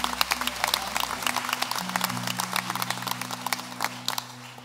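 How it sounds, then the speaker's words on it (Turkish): Audience applause at a Roman orchestra and neighbourhood heads' choir concert in Nilüfer, a steady patter of hands with low sustained tones beneath, fading slightly toward the end. "Alkışlar bu kadar mı?"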